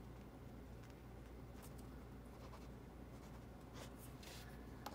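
A Jetstream 1.0 mm ballpoint pen writes on smooth Maruman Mnemosyne notebook paper, making a faint, continuous soft scratching with brief strokes and pauses, very quiet and close, with no voices.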